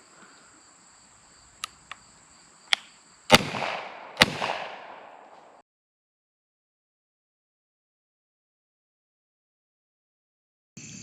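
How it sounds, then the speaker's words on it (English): Two loud pistol shots, 10mm or .40 rounds fired back to back into ballistics gel outdoors, each a sharp crack with a brief echo, preceded by a few faint clicks and followed by silence. "We'll probably just fire 2 back to back, and then we'll see if we stopped them."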